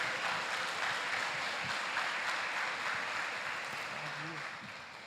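A church congregation applauds in a steady, continuous wash of clapping at moderate distance, gradually fading toward the end, with faint murmuring beneath.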